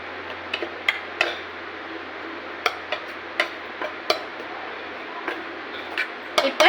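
A spoon or utensil clinks against a bowl while food is mixed with coriander, giving irregular sharp taps and scrapes spaced through a quiet background hum.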